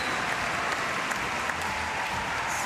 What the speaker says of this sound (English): home crowd all fired up